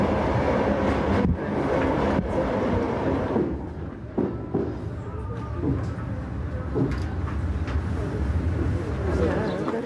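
A train pulls into a station in Moscow, a steady loud rumble of wheels and carriages with clicks and faint squeals throughout, while voices talk over it.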